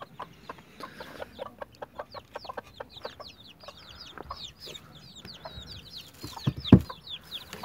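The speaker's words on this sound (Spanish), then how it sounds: "se levantó la gallina, no estaba picando." A hen clucks repeatedly in a coop after leaving her nest of eggs, with soft rhythmic clucks and chirps close by, plus a brief louder bump near the end.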